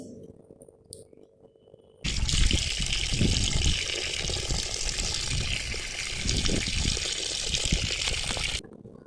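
Homemade garden fertilizer is thinned with water, a loud splashing pour starting abruptly after a quiet moment and running steadily for several seconds before cutting off.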